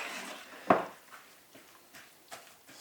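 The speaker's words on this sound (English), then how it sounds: "Stir it in. Fully mix it." A spoon stirs mashed potato into a pancake batter in a bowl, with one sharp clack against the side followed by softer, intermittent scraping strokes.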